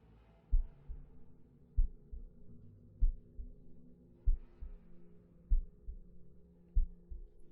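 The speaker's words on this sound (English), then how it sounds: "Heartbeat?" A slow, steady heartbeat sound effect in a Curse of Strahd tabletop game session, with deep, muffled paired thumps repeating about every second and a quarter over a low hum, with no talking.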